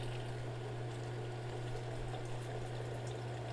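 Sixteen ounces of stout beer pour steadily into a brining pot for turkey wings, a continuous close liquid stream over a low constant hum.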